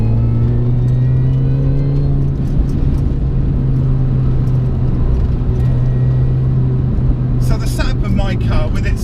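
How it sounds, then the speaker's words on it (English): A supercharged R53 Mini Cooper S with lightweight pulleys drives on a wet road, its engine a loud, steady droning hum with a whine and road noise, continuous and close, with splashing tire hiss near the end and someone talking over it. "and lack of dampening, does make the car even louder on little jaunts like this"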